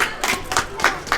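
Brief hand-clapping from a small audience at a Beyblade X battle league tournament after a match, several close claps falling in a quick uneven rhythm.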